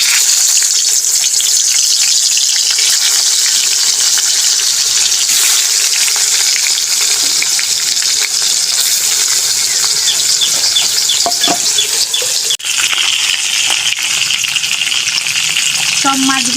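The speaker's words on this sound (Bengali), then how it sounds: "আর একটু তেলটা গরম আছে, এবার আমি মাছগুলো ভেজে নেব।" Bhetki fish fry in hot oil in a steady, loud sizzle that holds close for the whole stretch, with occasional scrapes of stirring and faint crackles, no voices.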